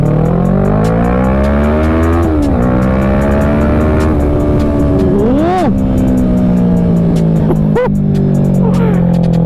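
A loud, close Kawasaki Ninja 650 motorcycle engine revs up and down in repeated bursts, its pitch rising and falling sharply with each throttle blip.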